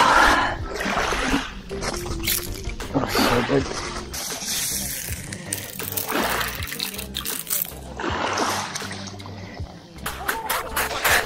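A hand splashes and sloshes sea water repeatedly close by on the Turkish coast near Kusadasi, with a voice speaking briefly over the wet, choppy sounds.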